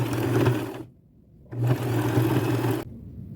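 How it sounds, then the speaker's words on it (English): A sewing machine stitches vintage lace around the top of an old garment in two close, steady whirring runs, separated by a short pause and cut off abruptly at the end. "So I'll go to my machine and get that sewn all the way around the top."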